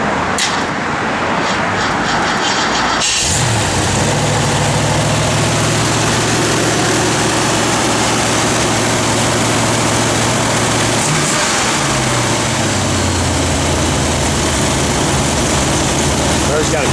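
A 1968 AMC AMX engine cranks and catches, then settles into a loud, steady, deep idle with a rough low throb that holds for several seconds and dips briefly near the end.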